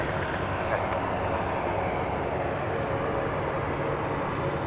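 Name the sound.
Beech B200 Super King Air twin-propeller plane at night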